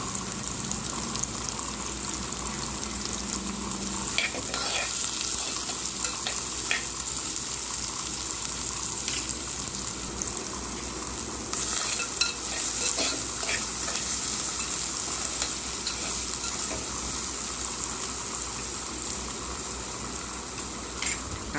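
Onions sautéing in a pan for a Tamil-style vathakulambu, a steady soft sizzle and frying crackle running throughout at moderate level, with no talk.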